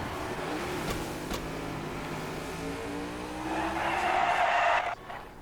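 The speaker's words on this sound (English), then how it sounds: "That was actually a spectacular wreck." A stock-car crash in the racing game NASCAR 21 Ignition brings loud continuous engine roar with tire skidding and a brighter scraping surge toward the end before it cuts off abruptly.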